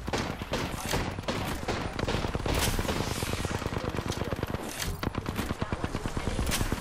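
Rapid, dense gunfire from an Apex Legends match crackles nearly nonstop, loud and close, with bursts running together as automatic weapon fire.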